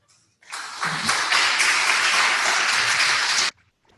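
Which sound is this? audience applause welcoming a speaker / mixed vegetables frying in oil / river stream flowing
audience applause welcoming a speaker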